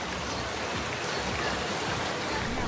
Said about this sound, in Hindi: गुजरात के सौराष्ट्र इलाके में हो रही भारी बारिश की वजह से नदी नाले उफान पर हैं